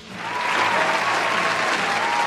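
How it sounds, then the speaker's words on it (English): Steady applause from a crowd at a boxing match, rising in the first half second and then holding as a dense, continuous wash of clapping with no one speaking. "Thank you all for the applause."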